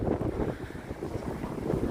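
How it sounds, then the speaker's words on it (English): Steady wind buffeting a microphone, a loud low rumble that rolls continuously without a break, with no voices. "it's windy."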